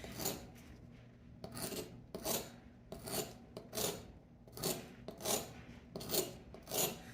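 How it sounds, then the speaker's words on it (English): A metal file rasps along a blade edge in slow, regular strokes, about ten distinct scrapes in a quiet room with short pauses between them. "I essentially am just sharpening like this edge of it."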